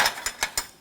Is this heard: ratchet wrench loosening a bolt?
yes